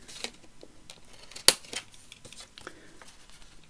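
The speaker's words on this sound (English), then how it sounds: "So I'm going to cut the corner off of that" Scissors cut the corner off a paper page for a mega journal, one short crisp snip standing out near the middle amid faint rustling and quiet handling.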